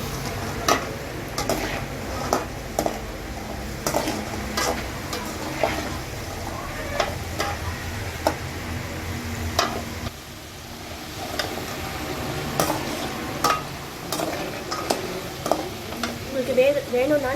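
Steady sautéing in a pan with a continuous moderate sizzle and frequent rhythmic scraping clicks from constant stirring, fairly close and loud.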